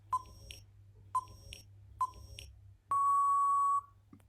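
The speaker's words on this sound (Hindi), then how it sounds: "आपके पास 5 सेकेंड का टाइमर है" Quiz countdown timer sounding three short, evenly spaced electronic beeps about a second apart, then one long sustained tone, clear and alone over a faint low hum.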